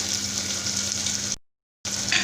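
Steady, close sizzling of small onions frying in hot oil, with a brief moment of complete silence before the crackle returns.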